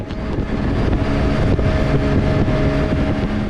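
A 1972 Kawasaki Mach IV H2 with its 748 cc two-stroke triple engine runs loud and steady, a dense buzzing drone with wind rushing over it, sustained without a break.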